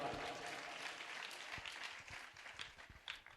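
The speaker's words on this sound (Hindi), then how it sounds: "तो बजा दो तालियां एक बार" An audience at a live religious commemoration gathering claps steadily, a dense crowd applause that thins out into scattered individual claps toward the end.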